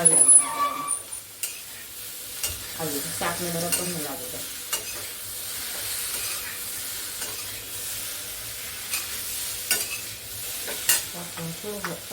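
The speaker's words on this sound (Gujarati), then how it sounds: "હળદર પાવડર નાખ્યા પછી બરાબર આ રીતે હલાવી દેવાનું" A spoon stirs pointed gourd and potato curry with turmeric in a hot pan with steady sizzling, scraping strokes coming in short bursts, and a voice speaks faintly in the background at times.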